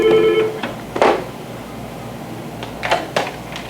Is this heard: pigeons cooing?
no